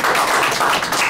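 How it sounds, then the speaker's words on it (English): A brief, loud burst of audience clapping, close and dense, lasting only about a second. "Give him a round of applause."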